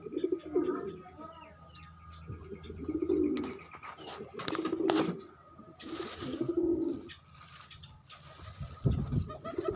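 Pigeons in a loft during breeding season coo in repeated low rolling phrases, fairly close, with other birds and faint background sounds between the calls.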